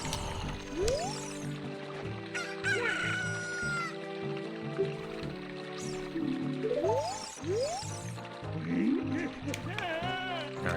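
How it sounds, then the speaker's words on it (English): Chicken (cuckoo) from the Ocarina of Time video game crowing and clucking repeatedly in rising, squawking calls, loud and close, with game chimes and sound effects layered underneath. "it's not a cuckoo, it's a chicken."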